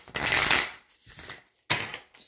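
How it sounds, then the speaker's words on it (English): A Wild Offering oracle card deck gets riffled and shuffled up close, two crisp papery bursts with a softer shuffle between them. "Just give it a good shuffle"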